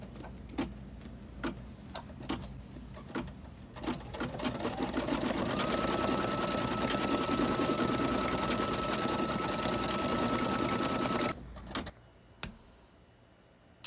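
An embroidery machine stitches a hat held in a Durkee hat hoop. A few separate clicks come first, then a steady, loud, fast mechanical whir and rattle runs for about seven seconds before it stops and leaves a few last clicks.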